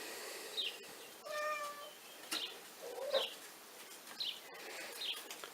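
One-month-old kittens in a cardboard box give a few thin, high mews spaced through the stretch, close and fairly soft, with light rustling in between.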